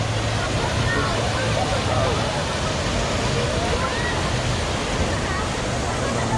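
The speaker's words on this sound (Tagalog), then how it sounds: "Ganda ng agos ng tubig oh." Steady rushing river water at Tangke in Juban, Sorsogon, Philippines, flows continuously throughout, a dense broadband wash of current, with faint voices of bathers in the background.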